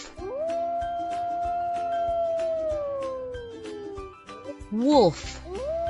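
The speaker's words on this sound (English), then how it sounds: "Wolf," A wolf's howl from a children's zoo-animal puzzle game rises and holds one long sustained tone for several seconds, sliding slowly downward over a soft musical background, followed by a short chirpy game effect.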